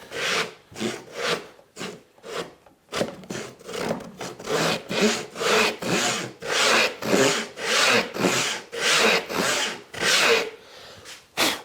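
A dado saw cuts through wood in a workshop, a steady run of rhythmic rasping strokes that start sparse and settle into an even back-and-forth pace, close and fairly loud.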